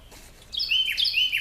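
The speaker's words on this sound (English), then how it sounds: "Shut up, bird." A nearby bird gives a quick, bright series of chirps and trills, loud and clear against faint background noise for about a second.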